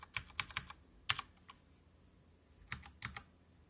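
Short bursts of keystrokes on a HyperX Alloy FPS mechanical keyboard with Cherry MX Brown switches, several quick clicks in clusters separated by pauses, close and fairly quiet.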